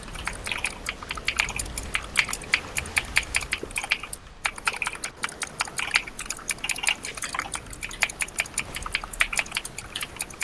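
Fast, loud typing on a computer keyboard, a dense rapid clatter of key strikes running without a break, close and prominent alone.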